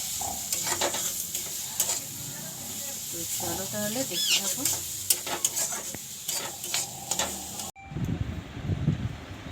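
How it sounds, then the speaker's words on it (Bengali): An egg fries in a pan with a steady close sizzle and occasional utensil scrapes, while someone talks over it and the sound cuts to a quieter room near the end. "তো চলো ডিমটা ভেজে নিই"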